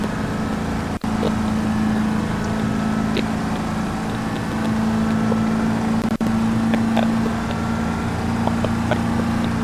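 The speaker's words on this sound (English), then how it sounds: "The whole straight pipe duals out the back is cool, and it does pop and do all that cool stuff" A Moonhawk car in the BeamNG racing game drones with a steady, loud, low exhaust note through straight-piped dual exhausts. Two brief dropouts break the sound, and no one speaks.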